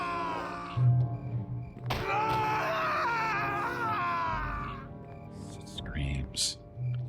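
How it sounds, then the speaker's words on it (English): Screams in the game Neverwinter Nights, from the Wailing Death plague, rise as a long, strained, wailing cry with thuds and groans around it, then fall to whimpering sounds near the end. "Screams."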